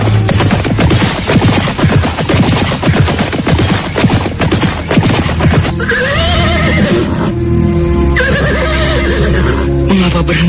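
Horses neighing loudly in repeated whinnies over galloping hooves and rumbling action-scene noise as riders travel along a mountain foothill trail.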